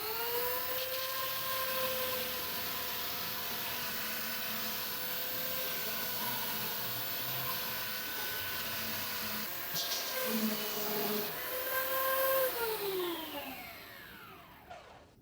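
A power sanding tool with dust collection, used to smooth 1/6th scale kitbash custom stands, runs steadily with a loud continuous whirring drone, shifting pitch near the end as it winds down.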